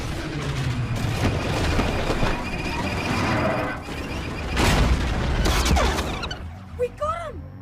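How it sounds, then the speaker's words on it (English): Laser blasts and explosions fill a dense, loud Star Wars space battle, a continuous roar of fire and booms with a sharp blast burst midway. Voices and squealing effects come in toward the end. "A lot of shooting."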